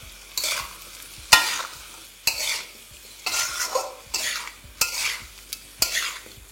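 A utensil scrapes and knocks around a cooking pan, mixing ground spices and salt over a soft sizzle, roughly seven stirring strokes at a steady pace, close and clear, no talk.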